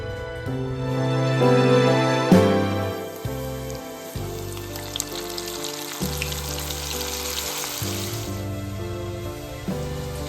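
Battered squid calamari fries a batch at a time in hot oil, a dense crackling sizzle that rises loudly at first and then settles into a steady bubbling, with background music playing throughout.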